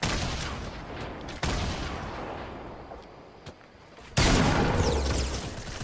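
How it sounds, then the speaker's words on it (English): Gunfire in Fortnite, several loud sharp shots with two strong bursts standing out, the reports trailing off between them, no talking. "I just got shot in the butt"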